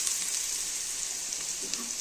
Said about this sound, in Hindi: डाल दिया मैंने लहसुन अदरक का पेस्ट। अब इसकी अच्छी तरह करूँगी बुनाई।